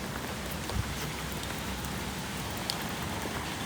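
Steady rain falls outdoors, a dense broadband hiss with scattered drops spattering on surfaces, constant and fairly faint throughout, with no voices.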